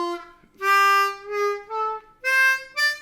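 Harmonica blows several short held notes in a blues lick from a bass line, each bright reedy tone swelling and fading with brief gaps, close and alone.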